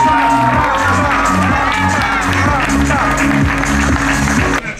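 Applause and cheering from a large crowd at a women's cycling race podium in Rome, steady and loud throughout with scattered shouts and whistles, cutting off abruptly at the end.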